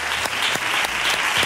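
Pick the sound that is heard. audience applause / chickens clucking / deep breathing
audience applause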